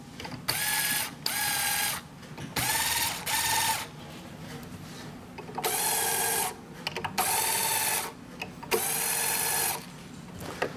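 Guitar strings are loosened slowly at the headstock tuners with a repeated ratcheting, gear-like whir, about six separate bursts of turning with short pauses between them, heard close and clear.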